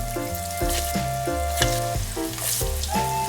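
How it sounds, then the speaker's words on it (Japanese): Breaded bite-size chicken cream croquettes deep-fry in hot oil with a steady sizzle, partly masked by sustained background music tones. "丸めてこれにつけて揚げていきます"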